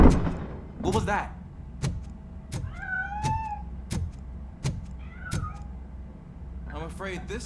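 A cat in the video game RoboCop: Rogue City meows a few times, short rising cries amid regular metallic footsteps, with speech nearby.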